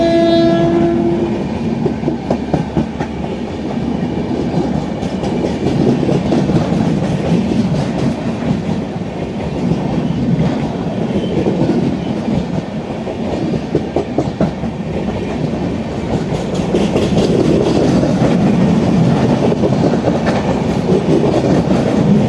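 The Kutch Express passenger train, Bhuj to Bandra Terminus, passes close and loud, a steady heavy rumble with rhythmic clickety-clack of wagons on rails and a short horn note at the start.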